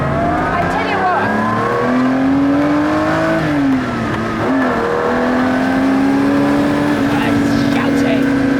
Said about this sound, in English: I love this V12. I love Ferrari V12s.